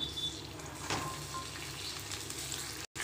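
Onions, tomato and garlic frying in oil for a raw-banana fish curry, a soft continuous sizzle close by with a faint stir partway through, cutting out briefly near the end.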